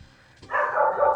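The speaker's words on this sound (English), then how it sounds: "Oh, there goes my dog." A dog in the background gives a short, muffled bark or yelp that swells into a sustained whine-like sound, heard once over a quiet room.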